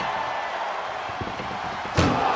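An ambulance door slams hard during a WWE Raw ambulance match, preceded by a few dull thuds of struggling against it, with steady crowd noise underneath throughout.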